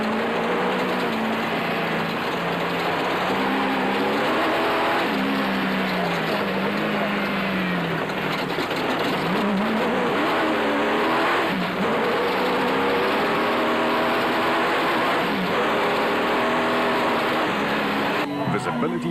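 Toyota Hilux race trucks racing in the 2007 Toyota 1000 off-road event, a continuous loud roar of engines revving and shifting pitch as vehicles pass, with a commentator talking over it throughout.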